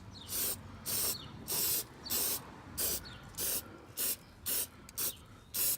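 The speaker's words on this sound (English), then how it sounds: "Go around and just keep on spraying." Short bursts of spray adhesive hiss out of an aerosol can in a steady rhythm, about ten sprays in a row, close and loud with brief pauses between.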